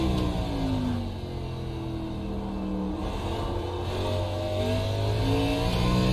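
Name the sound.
race car engine accelerating off the final turn at COTA in iRacing video game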